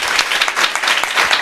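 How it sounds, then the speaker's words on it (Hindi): Loud, dense applause from a church congregation at a worship service, a continuous burst of many hands clapping close by, with no talking over it. "ज़ोरदार ताली।"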